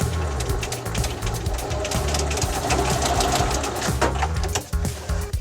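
A sewing machine backstitches a hemmed jeans leg at the top of the overlocked seam, running in a fast steady chatter that stutters and pauses near the end.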